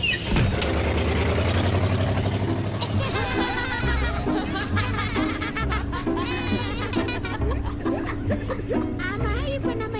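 A cartoon vehicle drives along with a steady low engine hum beneath animated voices, laughter and chatter that run over it the whole time.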